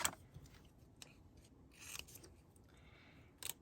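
Scissors snip through paper in a quiet room, a few crisp close cuts spaced irregularly with soft rustling between them and no talking.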